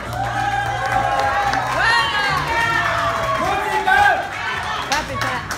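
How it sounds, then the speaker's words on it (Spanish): Audience at a children's pageant cheering and clapping for a contestant from Guatemala, excited shouts and crowd chatter layered over music, with a voice calling out over the noise. "Un aplauso para Yajindi Marroquín de nuestro hermoso país, Guatemala."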